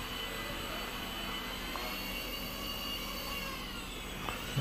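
Small Ares Nanos FP75 quadcopter drone with its motors at full throttle, a steady high-pitched whine and whir held close and fairly even throughout, with no voices.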